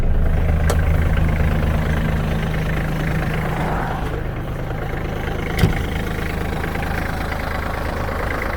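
An ISEKI GEAS31 Japanese mini tractor's small engine idles steadily nearby with a low, even rumble and a faint click partway through.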